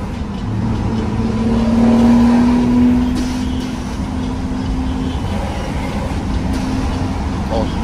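A loaded truck rolls downhill around a bend, a steady, loud low engine and drivetrain rumble with a rising whine and a gentle swell in loudness.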